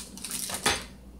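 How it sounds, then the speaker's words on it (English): A cooking pot's lid is lifted with a soft metallic scrape and ends in one sharper clink, close and fairly quiet. "so I just opened the pot"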